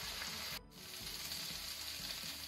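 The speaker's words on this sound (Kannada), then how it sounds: "ನಾವು ಈ ಮಸಾಲೆ ಫ್ರೈ ಆಗಲಿಕ್ಕೆ ಬಿಡುವ ಸ್ವಲ್ಪ ಟೈಮ್" Masala frying in a pan, a steady close hiss and sizzle that stays even throughout, broken by a brief dip in the middle, with no voices.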